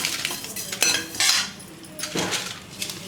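Coriander, cumin and fennel seeds are dry roasted in a pan, with a metal spoon stirring and scraping in a few irregular clinks and rattles that are close and fairly loud, with no talking.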